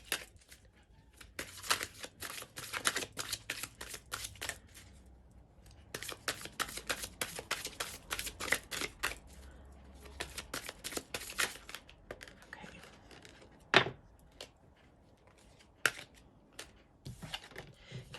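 Tarot cards are shuffled close up in quick runs of crisp riffling clicks and flutters, broken by short pauses and a sharper slap near the end, fairly quiet overall.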